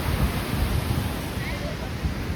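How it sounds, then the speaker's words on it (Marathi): The Ekiv waterfall in Satara rushes as a dense, steady roar of falling water, loud and close, with some wind buffeting the microphone. "हा धबधबा आहे."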